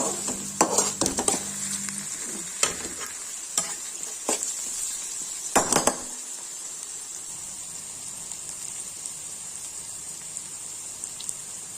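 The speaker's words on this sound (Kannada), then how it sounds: "ಬೇಯಬೇಕು ಈರುಳ್ಳಿ." Onions fry in a pan for tamarind chitranna, a steady high sizzle throughout, with several sharp scrapes and clinks of a spoon stirring against the pan early on.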